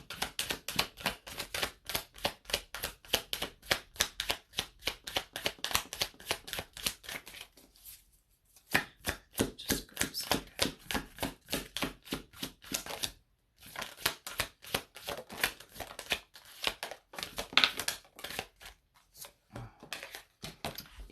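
Playing cards are shuffled over and over during a live card reading, a dense run of quick riffling clicks broken by two brief pauses, close and fairly quiet with no voices.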